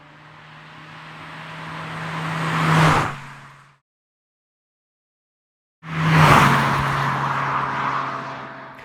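Car on a road rushing past a roadside recording position, rising to a loud whooshing peak, then falling away. A brief gap of silence follows before a second pass rises sharply and fades slowly.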